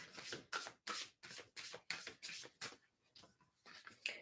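A deck of oracle cards is shuffled by hand in quick repeated bursts, about ten crisp riffling rushes in a row with short gaps between, close and fairly quiet, with no voices.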